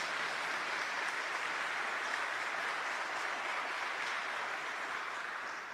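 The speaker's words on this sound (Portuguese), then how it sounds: "Uma salva de palmas para o Papa João Paulo II." A church audience gives a round of applause for Pope John Paul II, an even, distant wash of clapping that holds steady throughout.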